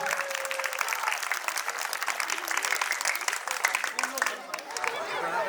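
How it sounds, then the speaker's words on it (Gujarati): A school audience gives teachers a round of applause: dense, continuous clapping at moderate distance, with a voice speaking over it throughout. "આપણે ફરીથી જોરદાર તાળીઓથી તમામ શિક્ષક ભાઈઓ બહેનોને આપણે વધાવીશું."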